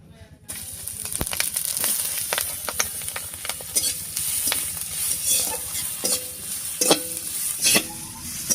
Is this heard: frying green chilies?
yes